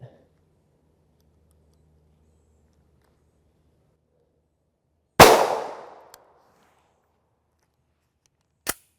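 A single sharp, loud gunshot is fired at MinuteMan NIJ Level IIIA soft body armor, its report ringing off in a brief decay, followed a few seconds later by a fainter click.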